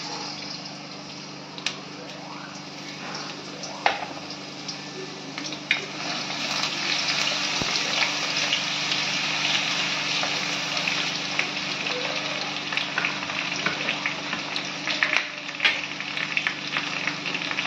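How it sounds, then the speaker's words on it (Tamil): Crushed garlic drops into hot oil in a pan while dry red chilli chicken is being cooked. It sets off a steady, bright sizzle that thickens and holds for the whole stretch, with scattered spatters and pops. A voice speaks over it. "எண்ணெய் காஞ்சிருச்சு. இப்போ தட்டி விட்ட பூண்டை போடலாம்."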